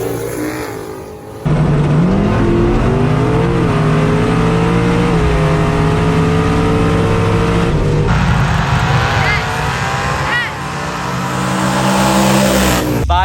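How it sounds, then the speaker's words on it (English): A mid 5-second drag race car's engine runs loud and close, with a rough idle that rises into revving and rumbling and holds a deep, steady drone. "This is my mid 5-second race car."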